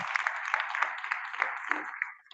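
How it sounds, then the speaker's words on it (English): Applause from an audience at a job and employability fair, a steady wash of many hands clapping that fades out near the end. "please, a round of applause for our family."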